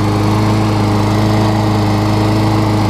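A Craftsman self-propelled lawn mower with a Tecumseh engine runs at a steady speed, a loud, close, continuous drone with an even buzzing pulse and no pauses.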